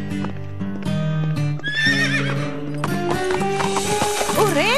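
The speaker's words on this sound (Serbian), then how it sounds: "osedlaću njeno konja" A horse whinnies loudly and repeatedly over a steady clip-clop of hooves, close by, with other voices and tonal sounds layered around it.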